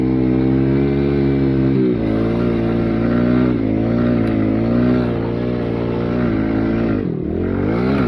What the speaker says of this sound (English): I think I'm gonna try second gear, popping the gas right as I come up to it.